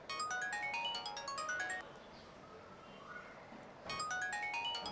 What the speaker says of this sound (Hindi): मेरे ख्याल में इसे फोन कहते हैं।